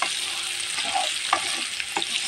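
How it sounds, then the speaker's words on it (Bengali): Taro stolons frying in a pan, a steady close sizzle of hot oil with a few sharper pops and crackles scattered through it. "এখন আমি কচুর ছড়াটাও ভেজে নেব"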